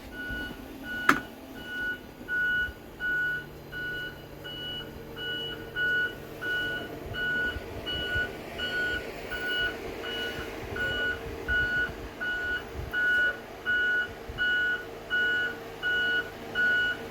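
A 2020 Blue Bird rear-motor electric school bus sounds its reversing alarm, a steady series of evenly spaced beeps repeating throughout over a low vehicle hum and faint outdoor noise.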